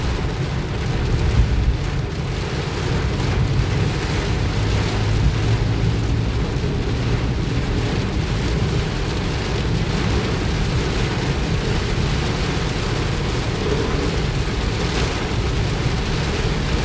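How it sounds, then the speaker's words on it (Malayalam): Heavy rain pounds a car driving along waterlogged roads in low visibility, a dense, steady roar of water that holds at one level throughout with no voices. "മഴ കൂടി വരികയാണ് ഗൈസ്. റോഡിലൊക്കെ വെള്ളം കെട്ടി നിൽക്കുകയാണ്"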